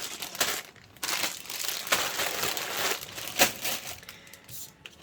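Plastic bags of bricks from a Lego Overwatch Bastion set are handled close up, with continuous loud crinkling and crumpling in uneven bursts and no talking.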